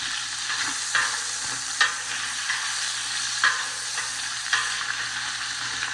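Pre-cooked sausages frying and caramelizing in a pot for jambalaya: a steady bright sizzle with periodic scraping stirs every second or so, close and loud, with no talking.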